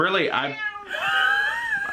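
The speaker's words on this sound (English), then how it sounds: "The cat's gonna put some input. He likes to talk, by the way." A talkative cat meows twice in quick succession, close and clear, the first call rising and falling and the second longer and drawn out, in a quiet cruise-ship cabin.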